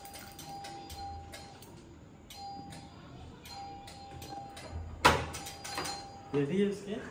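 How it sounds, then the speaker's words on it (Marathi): A doorbell chimes several times over a steady background, followed by a sharp clatter, with people talking nearby. "मुद्दामून बेल वाजवत होतीस का?"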